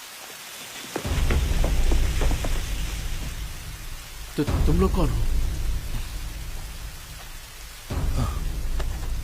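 Heavy rain pours steadily while deep thunder rolls rumble in swells, and a voice speaks briefly over the storm.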